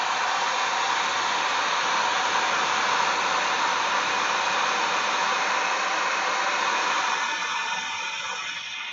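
A hair dryer blows steadily on fresh paint on a craft model of a Rohan homestead, a loud continuous whoosh running nearly unbroken before easing off slightly at the end.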